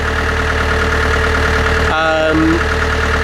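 A narrowboat's engine, damaged and still cold, idles on an icy canal with a loud, steady, low throb running throughout, while a voice talks briefly over it near the end.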